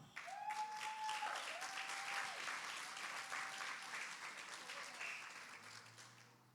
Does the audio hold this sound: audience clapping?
yes